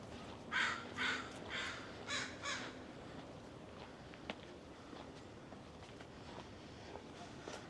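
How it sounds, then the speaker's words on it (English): Crows caw near a city school in a street neighbourhood, a run of four or five loud, harsh calls close together at the start, then quieter outdoor background with a single sharp knock. "Crows are having fun over at the local school."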